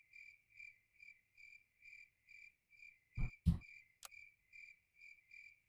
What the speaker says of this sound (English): The crickets fill the nighttime background pretty comically